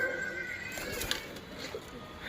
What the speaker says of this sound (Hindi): ये रहे अपने बाकी के सारे कबूतर